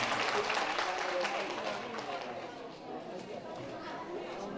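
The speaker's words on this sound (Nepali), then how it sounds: "हामी सबैले एकचोटि ताली बजाउँ र उहाँलाई प्रणाम गरौँ" An audience applauds together at a religious gathering, a dense, fairly distant wash of clapping that gradually fades, with a voice speaking over it.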